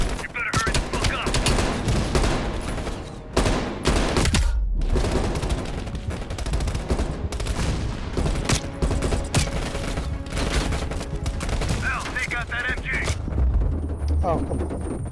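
Heavy machine gun on a ridge in Call of Duty: Black Ops Cold War, hammering out loud sustained bursts with brief pauses, mixed with other gunfire and mechanical clatter.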